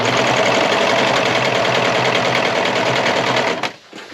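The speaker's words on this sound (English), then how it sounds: "Now I'm going to throw this in my serger and clean finish those edges." A serger sewing machine finishes the fabric edges of a girls' peasant dress with a loud, continuous rapid stitching whir that runs for several seconds and then stops suddenly.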